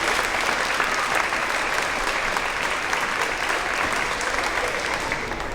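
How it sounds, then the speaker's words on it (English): An audience claps continuously and evenly throughout a third-grade promotion ceremony, a full, sustained round of applause with no speech on top. "let's give these folks one last round of applause"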